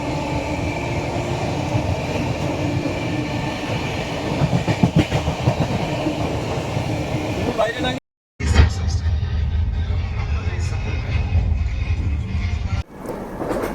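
The Saktipunj Express rumbles and clatters steadily through heavy rain, a broad wash of rain noise; a brief dropout, then heavy low rumble continues as it slows into Dhanbad Junction.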